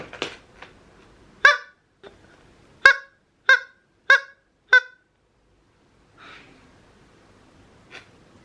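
A squeaky rubber toy chicken squawks about six times in sharp, honking bursts, then a couple of softer squeaks follow in near silence.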